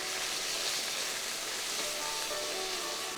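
Ginger spice masala with turmeric and a splash of water frying in a pan for doi rui: a dense, even sizzle that hisses loudly and steadily throughout, close up, with no talk.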